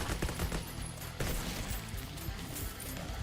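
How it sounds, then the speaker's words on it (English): Rapid submachine gun fire in a video game demo, a dense continuous burst of shots layered with in-game explosions and noise, loud and sustained across the whole moment. "let's go to this SMG and get these guys sprayed down here"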